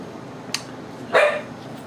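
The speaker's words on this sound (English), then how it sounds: "3 dogs, 1 bone, so now they're going to fight over it." Dogs scuffling over a single bone indoors, with a sharp yip followed by a louder, drawn-out whining bark against a quiet background hum.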